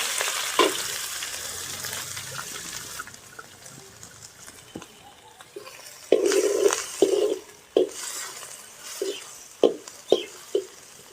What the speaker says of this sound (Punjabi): ਹੁਣ ਆਪਾਂ ਪਾਵਾਂਗੇ ਇਹਦੇ ਵਿੱਚ ਬਰੀਕ ਕੱਟੇ ਹੋਏ ਪਿਆਜ਼